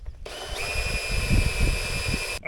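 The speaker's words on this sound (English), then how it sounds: "we're gonna drill out that 26 millimeter hole there" A power drill bores a 26 mm hole while a trailer hitch is installed on a 2022 Acura MDX Type S, giving a close, steady whirring whine that holds for about two seconds before cutting off.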